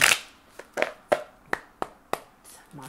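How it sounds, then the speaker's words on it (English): Tarot cards being shuffled by hand up close, heard as a string of about seven crisp, separate snaps and taps spaced roughly a third of a second apart, with no talking. "Let me do another shuffle."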